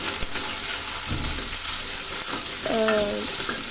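Hot oil sizzles and crackles steadily as tempering spices fry until golden, with a brief stirring clatter and a short tonal squeak near the end.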